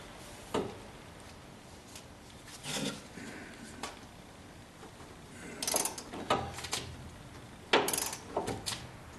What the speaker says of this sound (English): that long extension gives me the ability to make a big swing with the wrench